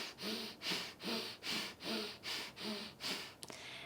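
Abdominal breathing exercise with forceful nasal breaths: seven rhythmic, evenly spaced exhalations in steady succession, close and fairly quiet, followed by a brief click near the end.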